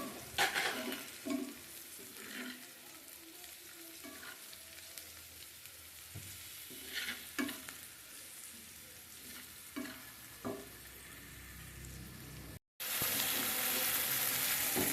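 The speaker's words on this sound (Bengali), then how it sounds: "আমার পেঁয়াজটা ভালো হয়ে গিয়েছে এবার আমি মাছগুলো দিয়ে দিচ্ছি" Onions sizzle steadily in a pan, close up, with occasional stirring scrapes and a soft hiss throughout, then a brief cut to brighter noise near the end.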